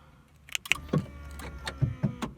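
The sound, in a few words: car remote central locking kit actuators operating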